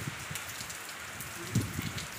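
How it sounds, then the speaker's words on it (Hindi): Rain falls steadily in a home courtyard during the first rain of the season, a soft continuous patter close by with a couple of slightly louder drops. "उतनी बारिश तो हो गई है"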